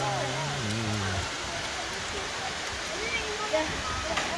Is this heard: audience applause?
no